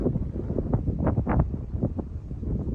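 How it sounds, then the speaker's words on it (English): Gusty wind buffets the microphone outdoors on a hiking trail along the Benton MacKaye Trail at sunset, a continuous low rumble with uneven surges, close and moderately loud, with no voices. "And it's more windy here this week, and more chilly even"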